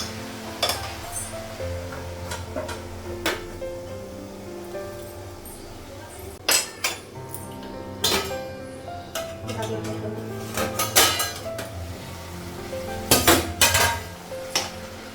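A metal lid clanks onto a cooking pot of cabbage curry in a home kitchen, giving a few sharp clinks amid soft utensil clatter and faint background voices.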